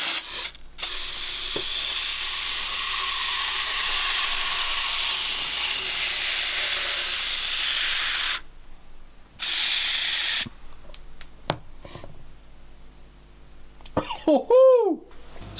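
Aerosol can of oven cleaner sprayed onto aluminium levers, a loud continuous close hiss lasting several seconds, a pause, then another short burst, followed by handling clatter and a voice speaking.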